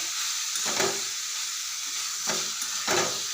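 A pan of Bengali cauliflower, potato and fish curry simmering with a constant hiss, broken by a few brief spoon-stirring scrapes, close by with no voices.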